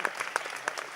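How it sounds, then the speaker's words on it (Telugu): A brief stretch of audience applause at a ceremony, with distinct individual claps standing out over a steady background of many hands. "చప్పట్లు కొట్టండి అందరూ."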